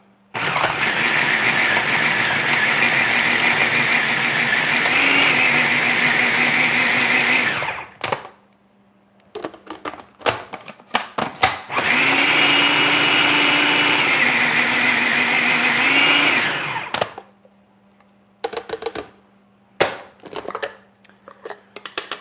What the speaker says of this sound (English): S blade in the food processor. We're just gonna pulse it until we get it down to the right size.